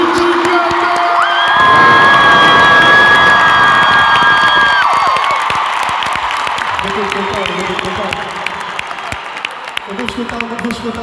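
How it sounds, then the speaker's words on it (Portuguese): A large arena crowd at a live concert cheers, whoops and claps over sustained music, a loud wash of noise that gradually thins as talk emerges near the end. "Eu quero ouvir a maior salva de palmas que vocês já deram."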